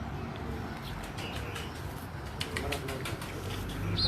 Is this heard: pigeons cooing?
yes